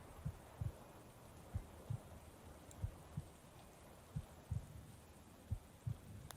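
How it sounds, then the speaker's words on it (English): A steady heartbeat thumps in evenly spaced lub-dub pairs, soft and low over a faint background hum, with no talk. "you can hear the heartbeat as you speak"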